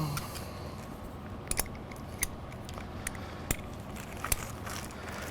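Scissors snip the tip off a piping bag filled with sausage in a kitchen, giving a handful of sharp, separate clicks and cuts spread over a few seconds at close range.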